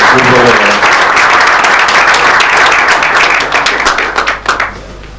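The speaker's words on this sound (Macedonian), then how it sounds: "И сакам да си дадете еден аплауз" An audience at a trading education seminar breaks into loud, dense applause that stays full for several seconds, then thins into scattered claps at the end.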